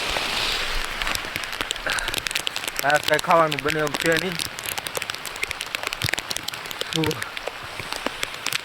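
Rain falls steadily on a campsite during solo camping, a soft continuous patter and drip filling the background while someone talks over it for much of the time.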